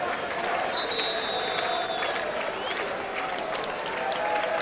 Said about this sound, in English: Paul Giacomo will get a wonderful round of applause here as he makes way